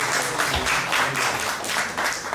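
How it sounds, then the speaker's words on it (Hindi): An audience at a nautanki folk-theatre event applauds to welcome an honoured guest, a veteran theatre artist and filmmaker, with a sustained wash of clapping that swells and dips in waves. "एक बार जोरदार तालियों से स्वागत करेंगे"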